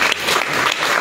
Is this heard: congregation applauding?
yes